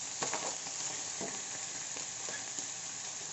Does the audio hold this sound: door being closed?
no